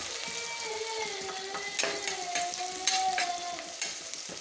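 Onions sautéing in a pan until golden for mushroom biryani, a steady close sizzle with occasional scraping stirs and clinks, no talking.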